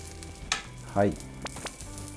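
An Italian-style hamburger patty sears in a hot pan, a steady sizzle with a few louder bursts and scrapes as it is handled, close and without talk.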